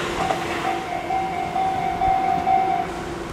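A Tobu 1030 series electric commuter train passing close to the track on the Noda Line, a steady rumble of rolling wheels with a sustained tonal whine rising slightly as it goes by.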